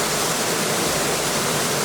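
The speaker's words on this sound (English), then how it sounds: "and like this waterfall" A forest waterfall roars as a dense, constant broadband rush, loud and close, with no other sounds.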